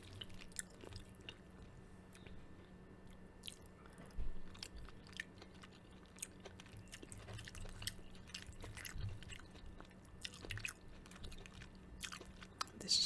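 Close, soft chewing and biting on shrimp egg foo yung, with moist, irregular mouth clicks and squishes repeating quietly over a faint background hum.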